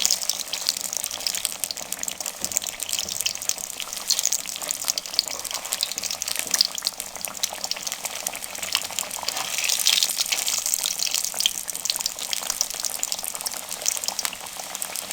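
Chicken and potato shami kebabs frying in hot oil, a steady bright sizzle and crackle that stays loud and even throughout with no pauses.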